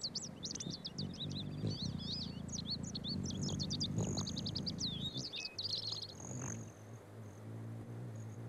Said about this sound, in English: This Anna's hummingbird